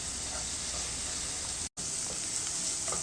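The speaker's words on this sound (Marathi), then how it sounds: "आता मी इथे 1 वाटीभर कांदा बारीक चिरून घेतलाय, तो यामध्ये घालूया. आणि याला पण आपण परतून घेणार आहोत." A bowlful of finely chopped onion sautés in a hot pan for a sandwich filling, giving off a steady, loud sizzle and hiss that cuts out for an instant midway.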